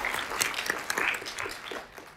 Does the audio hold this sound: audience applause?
yes